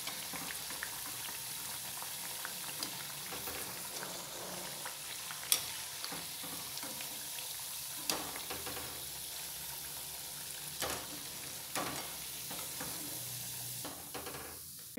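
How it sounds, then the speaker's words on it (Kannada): Masala vada made from mixed beans deep-frying in hot oil, giving a steady, close sizzle with scattered crackles and a few sharper pops throughout, and no voices. "ಸೊ ಇನ್ನೊಂದು ಸ್ವಲ್ಪ ಹೊತ್ತು ಇದನ್ನು ಹೀಗೆ ಫ್ರೈ ಮಾಡ್ಕೊಳ್ಳೋಣ"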